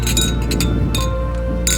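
Glasses clink together in a toast, several bright ringing taps in quick succession close to the microphone, over a steady low background hum.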